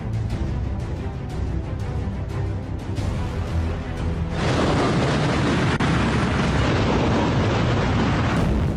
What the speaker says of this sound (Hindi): ये तस्वीरें धरती पर हुए अब तक के सबसे बड़े एटमी धमाके की हैं